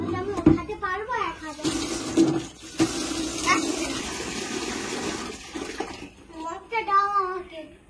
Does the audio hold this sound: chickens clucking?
no